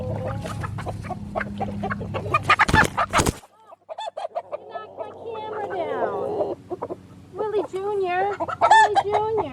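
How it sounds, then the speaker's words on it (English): Chickens cluck in a lively, uneven chorus, broken by a loud thump and a short near-silence before the clucking resumes, with a person's voice mixed in. "Naughty chickens knock down cameras."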